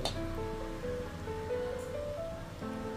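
Battered Bombay duck (loitta) fish pieces fry in hot white oil with a steady, even hiss that stays partly masked beneath continuous background music.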